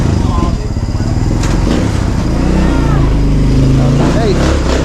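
A motorcycle with sidecar idles and runs after its exhaust was replaced, a steady close engine rumble with rising revs, while people talk over it.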